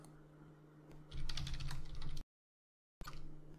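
Quick keys pressed on a computer keyboard while entering a terminal command on a Debian/LMDE system, as a close, rapid burst of clicks followed by a brief pause and a few more keystrokes.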